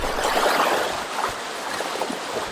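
A river rushing past a backpacking trail crossing in the Superstition Wilderness makes a steady, close, hissing flow of water with no voices.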